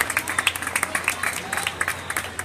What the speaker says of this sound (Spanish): fuerte el aplauso a estos jóvenes talentosos de nuestra escuela